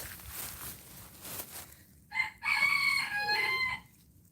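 Roosters crowing with clucking fowl, including a small Morosetta rooster, heard outdoors; after some quieter rustling, one loud, clear crow rises and holds for about two seconds close by.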